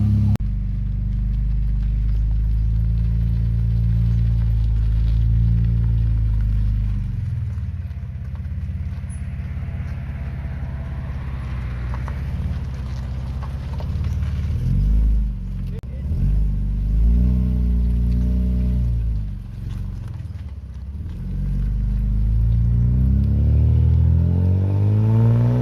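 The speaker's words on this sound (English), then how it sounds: "We've got the 3-inch turbo diesel system on there, and it sounds pretty good" Ford Barra six-cylinder, naturally aspirated, on a 3-inch XForce turbo diesel exhaust system, rumbling steadily at idle with several rising revs and drops, loud and close, while voices talk over parts of it.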